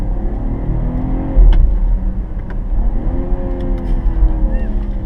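A BMW 640i xDrive Gran Turismo from 2018, with its six-cylinder engine, pulls hard under acceleration, giving a steady low drone with rising harmonics over road and wind noise inside the cabin.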